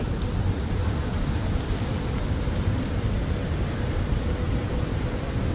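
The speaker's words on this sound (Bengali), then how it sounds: "শান্তির বৃষ্টি একদম ঝুমঝুমা বৃষ্টি" Heavy rain pours down at night in Abu Dhabi, UAE, with water pooling on the streets; a dense, steady roar of downpour runs unbroken and loud throughout, with no voices.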